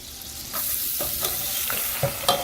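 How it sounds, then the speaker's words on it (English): Chopped onion tossed into a hot pot for mushroom risotto, sizzling steadily and close with the crackle of frying, punctuated by several sharp scraping stirs of a spoon. "we're gonna throw our onion in there"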